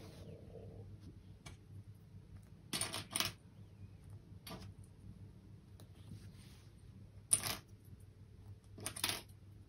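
Sewing clips snapping onto the edges of two fabric exterior pouch panels, heard as a few sharp, close plastic clicks in small bursts, alone against a quiet low hum.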